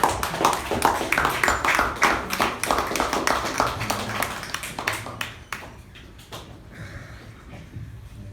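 A small club audience at a Toastmasters meeting claps to welcome a speaker, a crisp run of individual hand claps that is lively at first and thins out toward the end, with a name called out at the start.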